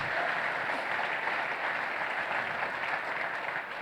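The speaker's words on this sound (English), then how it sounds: "So keep the claps going on for our platinum sponsor," Steady, dense audience applause at a conference sponsor thank-you fills the room, holding loud and even throughout without any voices.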